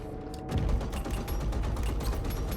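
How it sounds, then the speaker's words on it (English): A Gladius fighter's Shredder ballistic repeaters in Star Citizen fire a rapid, unbroken burst of clattering shots, each hitting the target with a hard, glassy crack, loud and close for about two seconds. "You can hear the different sound effect of hitting the target now. It's like hitting a glass."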